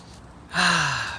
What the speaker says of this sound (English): Breathing in that fresh chi.